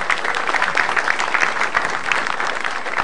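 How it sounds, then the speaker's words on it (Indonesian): Audience applause fills a stand-up comedy show, a steady dense wash of clapping from a crowd that holds for the full three seconds with no voice over it. "tepuk tangan dong buat saya"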